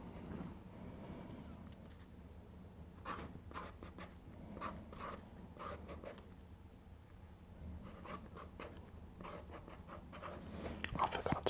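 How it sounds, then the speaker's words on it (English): Pen or pencil scratches across paper as football team names are written down, a quiet run of short strokes and pauses at close range, growing a little louder toward the end. "let's write some teams down."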